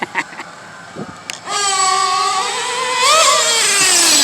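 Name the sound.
Pico P3 motorbike engine revving at full throttle during break-in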